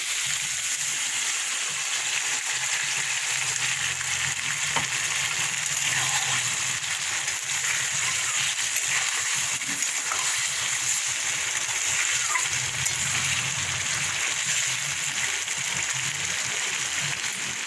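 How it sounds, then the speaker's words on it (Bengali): Paneer posto curry bubbles and fries in oil in a pan, a steady close hiss and sizzle with faint popping that continues evenly throughout. "দেখো আমার পনির পোস্তটা ফুটে গেছে ফুটে গেছে তেলও বেরিয়ে গেছে"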